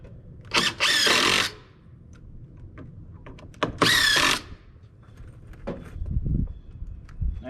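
A power drill drives screws into roof rafters in two short, loud bursts, with quieter handling noise and clatter between and after them.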